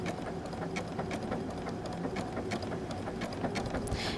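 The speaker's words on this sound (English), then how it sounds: "you can see how the machine is sewing backwards" A sewing machine stitches lightweight napkin fabric at a slow, steady pace, its needle producing a close, continuous rapid mechanical chatter with small clicks, with no talking.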